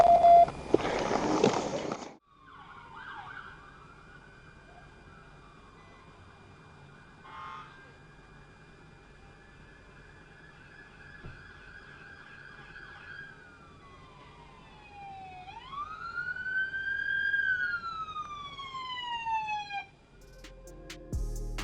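A vehicle siren sounds clearly alone: an ambulance responding to an injured man, wailing in long rising and falling sweeps after a brief loud burst at the start, moderately near and steady over about twenty seconds.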